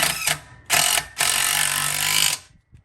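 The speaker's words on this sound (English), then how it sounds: "So I have my little DeWalt impact with a 17 millimeter socket and I'm going to draw it in." A small DeWalt cordless impact driver with a 17 mm socket drawing a nut down on an axle stud, two short hammering bursts and then a longer rattling run before stopping, close and loud.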